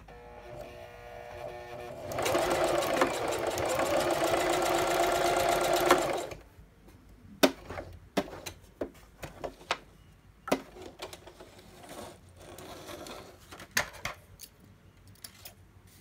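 Sewing machine running a straight stitch for several seconds in a loud, rapid, steady whir, then stopping, followed by scattered clicks and taps.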